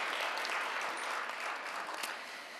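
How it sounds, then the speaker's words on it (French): Applause for sponsors at a conference held in a regional council chamber: a brief, dense burst of crowd clapping heard from some distance, lasting a few seconds. "je vous propose de les applaudir aussi."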